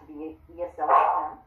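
A dog barks and yips in a few short bursts partway through, close and fairly loud, mixed in with a person talking.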